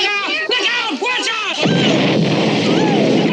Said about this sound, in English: the fire goes along the gasoline and creates another explosion